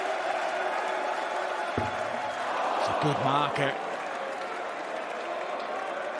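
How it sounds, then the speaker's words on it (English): Crowd at a darts World Cup match applauding and cheering steadily throughout, a broad wash of claps and voices, with a commentator speaking briefly over it partway through. "Crowd getting behind him."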